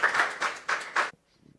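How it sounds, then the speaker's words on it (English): A handful of hand claps from a small audience at a Bitcoin hackathon finalist presentation: about five separate, fairly close claps in an uneven rhythm over one second, then an abrupt stop into near quiet. "let's give a round of applause"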